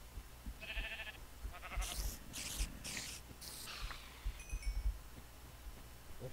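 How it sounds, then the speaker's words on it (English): Sheep bleat in the Minecraft video game, a short wavering call early on, followed by bursts of crunchy blocky game noises and a few thin tones, all close and clear. "Come here, sheep. I need you."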